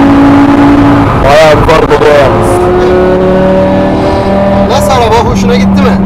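A powerful BMW E60 M5 V10 engine revs hard and roars loudly and continuously, with rising and falling pitch sweeps as it accelerates nearby.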